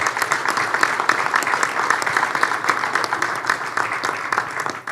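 A roomful of attendees at the ENADE 2025 business forum applauds its panelists, loud, busy clapping with many individual hand strikes, continuous throughout.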